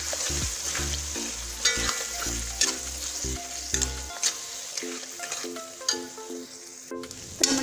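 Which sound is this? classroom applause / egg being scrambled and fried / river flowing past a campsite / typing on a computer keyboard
egg being scrambled and fried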